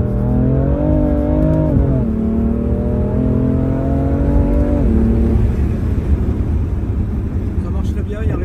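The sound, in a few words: car accelerating hard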